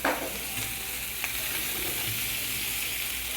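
Burger pieces sizzle steadily in a hot frying pan, a continuous close frying hiss with a few small pops and stirring scrapes, no talking.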